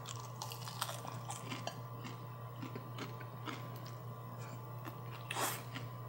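Crisp bites and chewing on air-fried fish sticks, close and quiet, with a series of crunchy bursts over a low steady hum in a quiet room.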